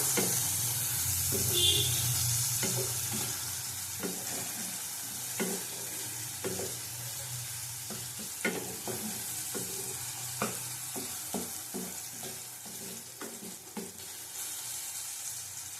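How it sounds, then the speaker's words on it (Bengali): Spice paste with Kashmiri chili powder fries in a pan with a constant low sizzle, punctuated by repeated knocks and scrapes of a spatula stirring, close up and without talk. "এক চামচ কাশ্মীরি লঙ্কার গুঁড়ো দিলাম আবার কষিয়ে নেবো ভালো করে"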